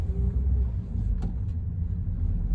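A 2014 Toyota Auris 1.33 Life drives along a road, heard from inside as a steady low engine and road rumble with a faint click partway through.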